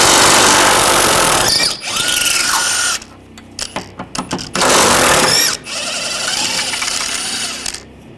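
A socket wrench and power tool work loose control arm bolts on a 2009-2017 Volkswagen Tiguan, with loud bursts of whirring and rapid ratcheting clicks separated by brief pauses.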